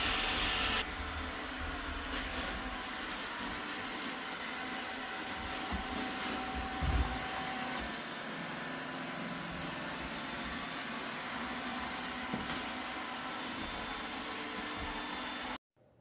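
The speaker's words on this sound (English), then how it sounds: "the 960 is great for someone who's looking for a smart robot vacuum with that back and forth cleaning pattern" An iRobot Roomba 960 robot vacuum runs with a steady, continuous whirring hum and occasional small bumps, moderately close, then cuts off abruptly at the end.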